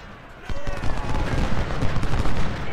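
Infantry volleys crackle through a Civil War battle in Ultimate General: Civil War, a sudden burst of dense rifle fire that rolls on as an unbroken, loud fusillade.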